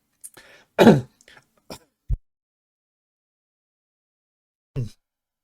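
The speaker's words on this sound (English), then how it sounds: "this tickly cough just doesn't want to go away" A few short, tickly throat-clearing coughs in quick succession, then a pause and one more brief cough, close and otherwise silent.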